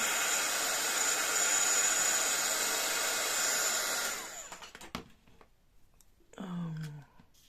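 A hair dryer blows steadily and loudly for about four seconds as it dries inkjet-printed tissue paper, then cuts off, leaving faint handling noises and a short low hum near the end.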